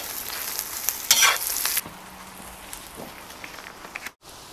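Onion and carrot frying in a cauldron, a steady close sizzle with a louder burst of stirring near the start.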